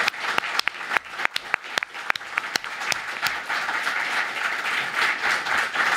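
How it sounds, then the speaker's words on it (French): Scattered sharp claps quickly swell into dense, sustained applause from a crowd that keeps going steadily. "Je vous demande un tonnerre d'applaudissements pour Sylvie Dufour."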